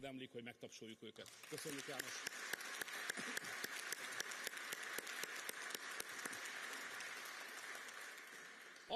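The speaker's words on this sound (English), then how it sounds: "Led by Minister Junos Boka, who did an outstanding job, they deserve to be applauded" Audience applause in a parliamentary chamber during a speech about the Hungarian presidency, steady dense clapping that swells after a brief spoken opening and holds loud and continuous to the end.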